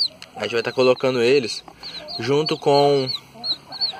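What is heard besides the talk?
chickens clucking, grey cabu hen with chicks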